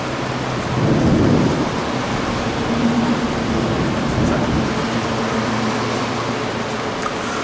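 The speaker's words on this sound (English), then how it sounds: "We wait a few more seconds, we should be able to catch the thunder as well." Steady rain falls throughout while a deep roll of thunder rumbles early on, loud and close, then fades beneath the continuing downpour.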